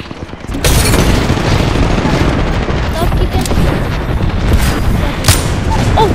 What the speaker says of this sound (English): The missile's coming